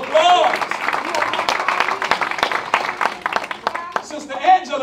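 Scattered audience applause at a community gathering in Coldwater, Mississippi, uneven bursts of clapping mixed with loud talking and shouts from the crowd.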